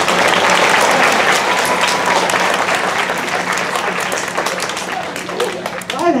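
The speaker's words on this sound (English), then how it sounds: "So let's give our kids one more round of applause." Elementary school students in a special needs music program get a sustained round of applause from the audience, a dense wash of clapping that fades slightly toward the end.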